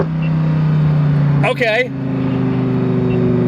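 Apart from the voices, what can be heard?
Lamborghini accelerating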